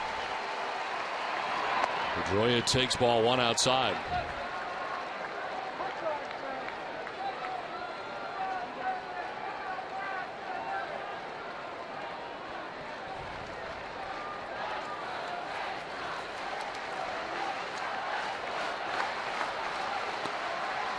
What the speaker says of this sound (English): his crowd comes alive at Fenway